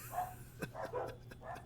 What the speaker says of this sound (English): the dogs are going crazy, and they might start going crazy again in a second